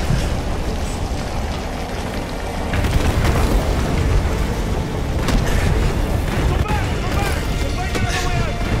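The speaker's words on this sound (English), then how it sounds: "They started the bombardment early." Heavy bombardment explosions in Call of Duty: Modern Warfare 2 Remastered, a dense, continuous rumble of booms and bursts that swells louder partway through, with distorted battlefield clamor layered on top.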